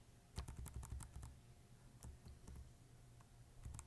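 A computer keyboard clatters in short bursts of quick key presses and clicks, close and fairly quiet, with pauses between the flurries and no talking.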